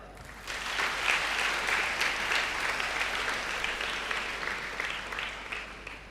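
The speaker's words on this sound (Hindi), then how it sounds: "और आपकी ये तालियां, उसकी गूंज सभी के जोश और उत्साह को दोगुना करने का काम कर रही हैं" Audience applause after a youth speech paying homage to national leaders, a dense, steady burst of clapping that swells within the first second and holds strong for several seconds before tapering slightly.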